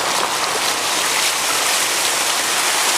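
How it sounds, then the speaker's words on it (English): A car ploughs through flood water on a Malaysian road, throwing up a loud, close, continuous rush of splashing spray with no break and no voices. "I think this car's going to come and splash me."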